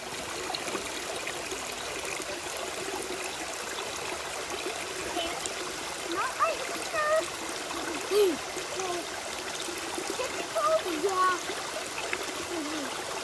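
Waterfall beside an Ozark trail, a steady broadband rush of flowing water running through the whole span, with faint scattered birdsong and small splashy accents on top.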